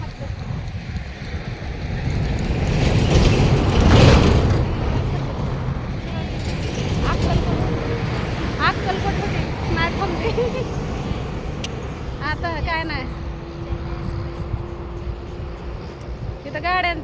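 State transport buses passing along a roadside stop without halting, a loud engine roar and wind rush swelling past up close, followed by fainter traffic rumble and a few horn-like tones, with a person talking over it.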